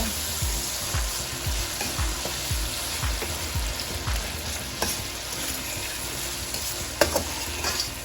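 Jamaican-style fish sizzles in preheated oil in a pan, a steady close frying crackle with a series of low thumps from stirring or turning early on and a sharper clink near the end.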